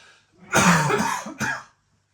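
A close, harsh cough followed quickly by a second shorter one, then silence.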